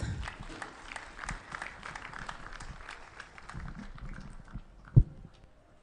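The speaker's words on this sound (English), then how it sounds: "Round of applause for him, please." Scattered audience applause at a school-year opening gathering, moderate and uneven clapping that fades toward the end, with a single sharp knock near the close.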